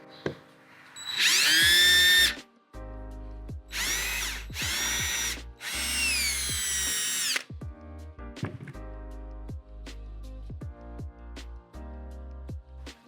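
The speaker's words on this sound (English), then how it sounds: "I'm gonna drill one, drop a bolt, drill another one, drop a bolt" A power drill drilling bolt holes whines loudly in several bursts of a few seconds each, revving up and stopping, with clunks and quieter mechanical noise between runs.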